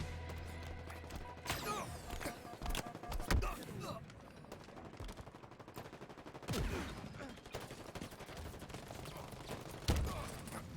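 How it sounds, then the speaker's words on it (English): Gunfire and grenade blasts in a Halo capture-the-flag match: bursts of automatic fire with loud explosive booms around the midpoint and near the end, dense and continuous, with game announcer callouts over the action. "that's a grenade"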